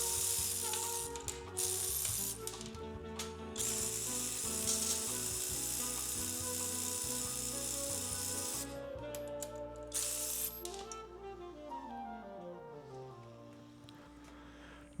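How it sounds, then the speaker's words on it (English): Workpro and Harbor Freight budget cordless ratchets driving coarse-threaded nuts on bolts, a dense, close mechanical whirring and clicking that runs continuously, rising and falling in pitch as the nuts spin, then winding down near the end. "these two machines were about the same speed as far as it went for tightening and loosening these coarse threaded nuts"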